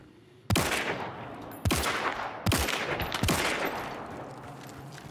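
Four loud, distinct shots from a Vetterli 71 rifle in a video game, each a sharp crack with a ringing tail, spaced about a second apart with no voices.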